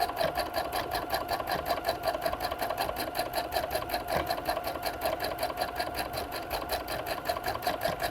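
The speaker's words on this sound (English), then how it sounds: "And I still have my 3mm top stitch length stitch on my machine." A sewing machine top stitching a star appliqué pillow at a 3mm stitch length, running in a fast, even mechanical rhythm close up for over eight seconds without pause, with no one talking.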